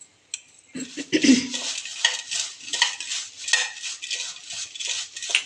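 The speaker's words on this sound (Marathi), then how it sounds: "आणि हे चांगलं असं मिक्स करायचं आहे" Metal spoon stirs poha mixed with grated coconut in a steel bowl, giving near, steady scraping and clinking strokes that rattle on after a sharp first clank, with no talking.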